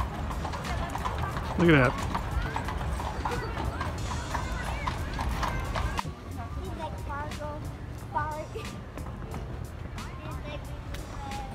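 Hooves of a horse-drawn wagon taxi clip-clop along a street in Jackson Hole, a steady mid-distance clatter under town bustle, with a person speaking briefly over it.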